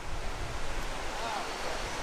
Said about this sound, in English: Here you can see where the spring runs into the river right here